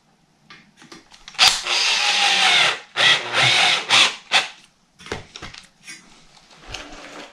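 Power drill screwing into plasterboard on a wall niche build, heard as several short bursts of whirring and grinding separated by clatter and brief pauses, fairly close and moderately loud.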